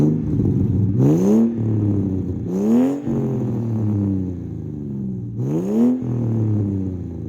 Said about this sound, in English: I'll give it a bit of a rev.